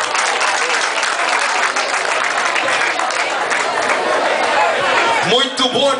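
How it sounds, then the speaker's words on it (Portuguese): A large audience at a live show applauds a performer loudly and steadily, dense clapping filling the space, with a few cheers and voices rising near the end. "Agora batam palmas para Ecstasy"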